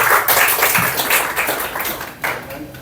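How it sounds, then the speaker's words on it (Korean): Audience applause at a forum event, a dense, steady wash of clapping that stays loud throughout and tapers only slightly near the end. "크게 박수 부탁드립니다."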